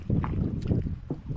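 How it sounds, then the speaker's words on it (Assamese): A boat on the Brahmaputra river approaching the Umananda temple island and coming to a stop, with a low rumble of water and hull broken by a few irregular swells and surges, close by. "এয়া নাও এতিয়া ৰখিব"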